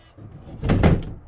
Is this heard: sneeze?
no